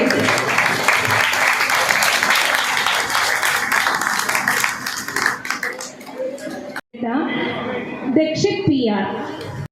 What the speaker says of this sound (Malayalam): നല്ല കൈയടി